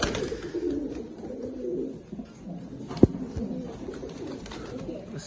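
Pigeons, a top-quality ringed male among them, coo low and steadily close by, with a single sharp knock cutting through partway.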